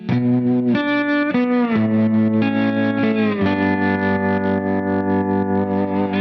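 A lap steel guitar tuned to open D sounds root, third and root chord tones, with sustained sliding notes shifting pitch in a few steps, heavily processed with chorus, distortion and echo, continuous and loud.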